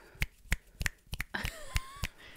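A run of sharp finger snaps, about ten of them, irregularly spaced and close to the microphone, with a faint thin whistling tone running beneath the later snaps.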